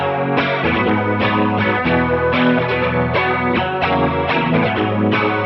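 Distorted electric lead guitar with chorus and echo effects plays the Alleluia pre-chorus and chorus melody, a loud, continuous line of rhythmic repeated phrases heard alone without talking.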